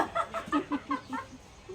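A chicken clucks close by in a quick run of about eight short, evenly spaced clucks, then trails off into quiet.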